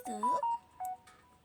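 A mobile phone plays a short notification for a Coupang delivery: a quiet, melodic electronic tone with a gliding start and sustained pitched beeps, followed by a couple of softer chimes, faint in a quiet room.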